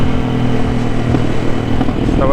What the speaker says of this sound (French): Il y a un peu de moto là.